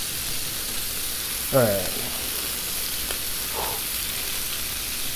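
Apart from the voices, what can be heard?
sausage and potatoes sizzling on a Blackstone griddle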